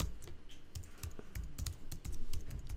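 Computer keyboard being typed on at a steady quick pace, a close run of crisp individual key clicks with no talking.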